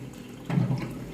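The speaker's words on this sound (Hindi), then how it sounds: "तो यहाँ जो वानिया के लिए पानी की बोतल" Tap water pours into a water bottle in a home kitchen, a short close splash and gurgle lasting about a second, alone with no voices.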